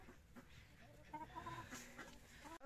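Chickens cluck softly around their coop just after morning feeding, several hens giving low, overlapping calls at a quiet, steady level.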